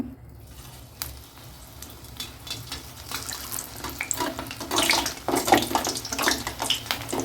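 Pakoda batter dropped into hot oil for tea-stall style pakoda, bubbling and sizzling steadily, growing louder and busier toward the end with no talking over it.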